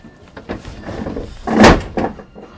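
A heavy sheet of 3/4-inch plywood, hung on chain, drops fast down a pair of closet door tracks, ending in a loud, close, booming slam between quieter rattles and scrapes.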